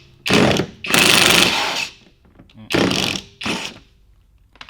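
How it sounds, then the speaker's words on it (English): A cordless drill fitted with a socket works the lug nuts on a car wheel in bursts, loud close whirring and rattling runs of about a second each, separated by brief pauses, with no talking. "And then you just reverse the drill to go the other way."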